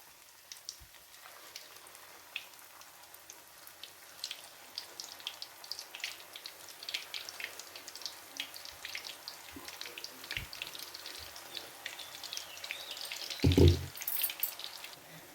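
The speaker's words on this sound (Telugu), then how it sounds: "చూడండి, ఇప్పుడు ఆయిల్ కాగింది. మనము ఈ విధంగా వేసేసుకుందాం. ఇది శనక్కాయ నూనె కదండి, అందుకు బురుగు వస్తుంది." Mysore bonda batter frying in fresh groundnut oil that foams as it heats, giving a steady, fairly faint crackling sizzle with a brief louder splash or knock near the end.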